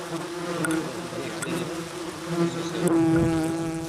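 Yellow jackets swarming out of their nest in a log in the woods, a dense, loud continuous buzzing close by with occasional clicks and knocks.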